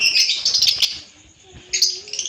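A pair of adult violet lovebirds gives close, bright chirps in quick clusters, then falls briefly quiet before another burst of sharp tweets.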